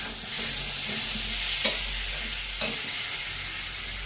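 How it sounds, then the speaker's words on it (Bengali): Elephant foot yam curry being sautéed with kasuri methi in a pan: a steady close sizzle and frying hiss runs throughout, with two brief spoon scrapes or stirs, no voices. "কসুরি মেথিটা দিয়ে আর একটু কষিয়ে নিচ্ছি।"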